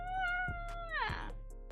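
A house cat gives a drawn-out meow that rises and then bends downward into a second, rougher cry, close and clear over a low steady hum.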